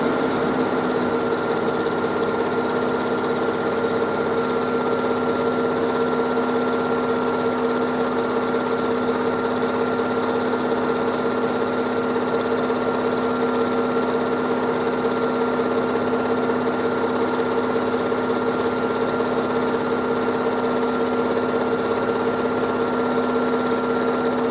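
A Janome Skyline S7 sewing machine stippling a quilt square hums at a steady, even pitch, a constant close-by motor drone that runs without a break, with no voices over it.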